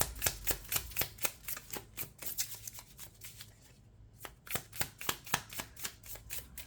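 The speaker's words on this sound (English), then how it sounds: "Last two cards for Miss Davies." Tarot cards are drawn and handled during a reading, giving a series of crisp, close card flicks and slaps in an irregular rhythm, with a brief pause near the middle and no voices.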